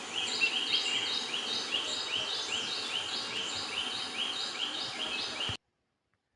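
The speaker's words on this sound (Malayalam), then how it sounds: "നിങ്ങൾക്ക് ഒരുപാട് കുരുവികളുടെയും കിളികളുടെയും ഒക്കെ ശബ്ദം കേൾക്കാമെന്ന്" Sparrows and other small birds call around a farm with orange trees in a cool hill area, repeating a rhythmic series of bright chirps over soft background noise before the sound cuts out abruptly.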